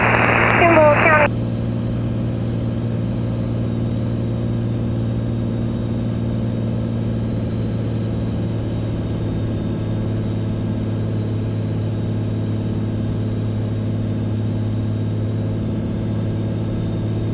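A white Beechcraft Bonanza on a one-mile straight-in landing approach with gear and flaps down gives a steady, droning piston-engine hum inside the cockpit, with a brief burst of radio static at the start.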